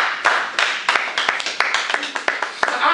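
An audience at a university talk gives a round of applause, with sharp scattered claps and bursts of clapping rising and falling alongside crowd noise and some voices.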